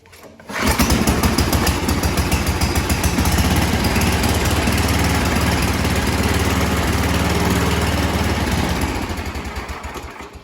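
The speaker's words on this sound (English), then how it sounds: "prime it once or twice, maybe 3 times when it's real cold outside, maybe 4 times even. Give it a pull." A Yard Man snow thrower's small engine catches on a pull start and runs at a loud, steady rhythmic chug close by for several seconds before easing off at the end, with no talking.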